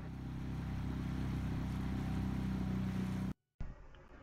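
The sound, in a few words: boat engine on river cruise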